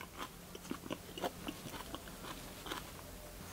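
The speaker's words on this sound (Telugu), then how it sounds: "ఇలా తింటా ఉల్లిపాయ కురికితే ఉంటుందండి." Close, crisp crunching bites into raw onion taken alongside rice mixed with palak paneer. Several short crunches and chewing sounds come in quiet succession, with no talking.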